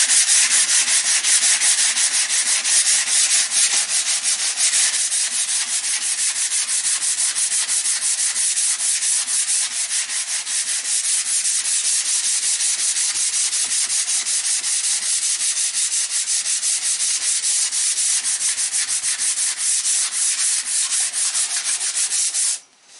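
Hand sanding of pallet wood, a steady rough rubbing and scraping that runs close and loud without a break for over twenty seconds, then cuts off at the end, with no voices.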